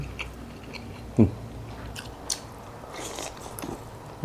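Crunchy bites of food from a spicy Thai-Lao tom saep soup made with pak nam fish, chewed close to the mic in a few sharp crunches and soft chewing, mostly alone without talk.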